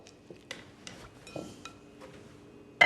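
A utensil stirring melting chocolate in a bowl heated in a Panasonic microwave: quiet, scattered clinks and light taps against the bowl, about eight in a few seconds, ending in one louder knock.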